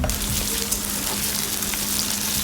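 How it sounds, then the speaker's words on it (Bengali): Onions sizzle steadily in hot oil, a constant crackling fry with no voices. "পেঁয়াজটাকে ভালো করে ভেজে নেব"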